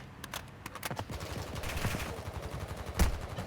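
Rapid gunfire in the Warzone Mobile shooter on an iPad Pro, with bursts of automatic shots and single sharp reports cracking repeatedly throughout, fairly close and loud, with a heavier blast near the end.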